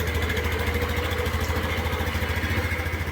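An RFI motorcycle engine, freshly tuned up, idles steadily with a low, even chugging pulse that carries on without a break, close and fairly loud, with no voices over it.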